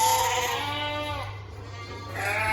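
Sheep bleat during weaning as ewes and lambs are parted by a gate, several overlapping calls rising and falling continuously over a steady low farm hum, fairly close and loud.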